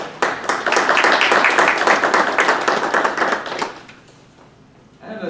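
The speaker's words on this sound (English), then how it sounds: "Let's give her a round of applause" An audience at a Shelby city council meeting applauds Ms. Gribbon with brisk, dense clapping that holds strong for about three and a half seconds and then dies away, leaving near silence and a faint noise at the end.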